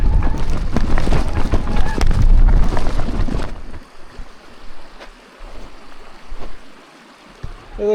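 Creek water rushes loudly for the first few seconds of a bike crossing on a mountain route, then drops to a quieter trickle and splash as the rider emerges, with a few faint knocks near the end.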